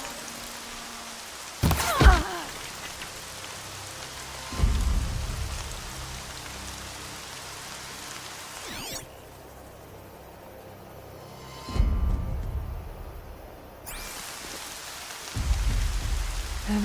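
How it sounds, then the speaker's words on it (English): In the video game Horizon Zero Dawn, steady rain falls on surfaces around the player, and low thumps and rumbles rise and fade at intervals over the continuous hiss. "Everything's sharp and looming in the rain."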